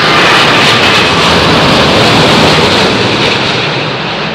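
A Gulf Air airliner's jet engines roar loud and steady, a broad continuous rumble that fills the whole stretch without a break and dies away slightly at the end.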